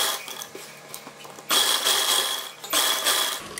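A sewing machine stitches the lining fabric of a chudithar top in short close bursts of mechanical clatter, with a quieter pause between two louder runs.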